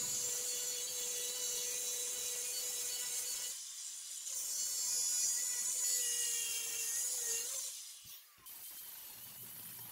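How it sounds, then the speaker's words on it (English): Angle grinder cutting steel stock into pieces in a DIY workshop, a steady loud high-pitched whine with abrasive grinding that drops out briefly twice before resuming. "The angle grinder makes a quick task of cutting the steel in pieces to what I need."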